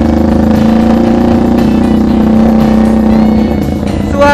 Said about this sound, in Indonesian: Suaranya juga kayak motor chopper pada umumnya dengan cc mesin berdiri ya